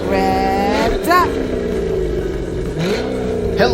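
A car engine revs loudly in a rising and falling drone, with a sharp whine sweeping up twice over the throaty growl as a voice speaks over it.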